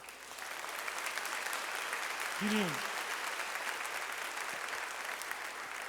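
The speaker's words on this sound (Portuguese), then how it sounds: "Dá uma salva de palmas por isso." Church congregation giving a round of applause, a dense steady clapping that holds throughout, with a brief voice speaking quietly during it.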